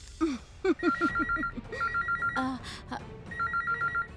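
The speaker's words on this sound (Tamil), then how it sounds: "ஃபோன் ரிங் ஆகுது." A telephone rings in repeated short trilling bursts at moderate volume, with a few brief vocal sounds early on and quiet background noise underneath.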